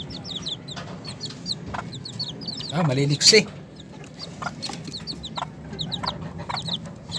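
Two-week-old Sebright chicks peep and cluck continuously at moderate distance, with a short spoken remark in the middle and low background hum.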